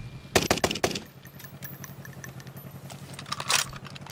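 Gunfire in the video game Call of Duty: Warzone: a fast burst of four or five sharp shots opens the clip, followed by a low steady rumble and light clatter, then another brief burst near the end.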